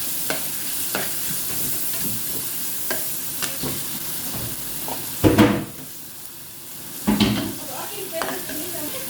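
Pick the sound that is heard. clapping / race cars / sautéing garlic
sautéing garlic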